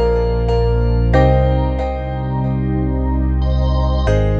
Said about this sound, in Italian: Abbiamo poi un basso e un organo che entrano in gioco poco dopo.